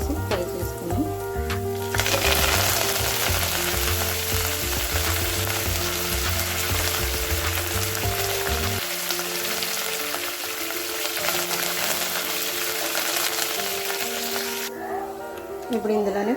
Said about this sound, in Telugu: ఇప్పుడు ఇందులోనే కాస్త కరివేపాకు కూడా వేసి ఫ్రై చేసుకున్నాం.